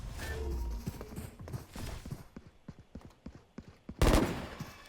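Gunfire in the video game Valorant, a run of quick, sharp shots in short bursts followed by a loud blast near the end, with game sounds underneath.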